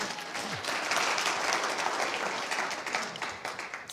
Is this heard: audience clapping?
yes